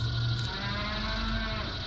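A low mooing sound plays in the video game Metal Gear Solid 4, sustained and droning under a busy, constant game soundscape.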